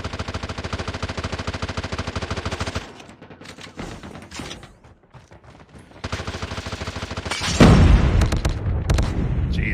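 Rapid automatic gunfire from a gunfight in Apex Legends Mobile, loud sustained bursts broken by a quieter stretch of scattered single shots, then heavy firing resumes with a booming impact.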